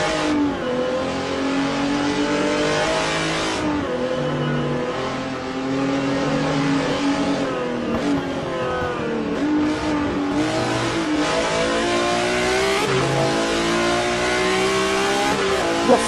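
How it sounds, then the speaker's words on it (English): A BMW M1 Group 5 race car engine in a historic sportscar racing video game at Road Atlanta roars loud and close, revving up and down through gear changes in a continuous, unbroken drone. "Let's ride with Ross Smith in the number 0 BMW M1 Group 5."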